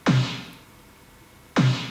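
Two loud EDM snare hits shaped by an amp simulator and extra EQ, each with a hard thump and a bright, hissing decay, separated by a short gap.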